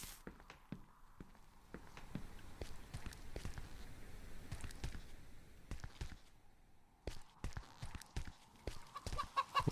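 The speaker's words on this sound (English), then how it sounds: "We got the chickens chilling." Chickens cluck and peck in the horror game Chicken Killer, scattered close clucks and soft footsteps over a quiet background, with no talk.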